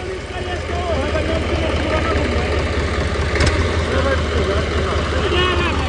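A 35 HP HMT 3511 tractor pulling a 7-foot Punni super seeder runs with a loud, steady engine drone close by, holding constant for several seconds while voices talk over it.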